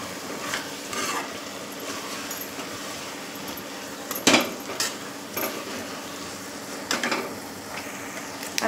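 Spices, including garam masala, stirred together in a hot pan for street-style pav bhaji: a spoon scrapes and clinks against the metal in irregular strokes over a soft continuous sizzle, close by, with no talking.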